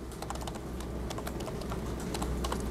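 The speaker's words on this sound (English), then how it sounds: "It's a lot of typing." Rapid, continuous clicking of keys on a computer keyboard fills the moment, close and even-paced over a low background hum.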